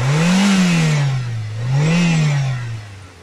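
A 1992 Volkswagen Golf III petrol engine revs up twice, its tone rising and falling in two smooth swells, loud and close with a steady running note.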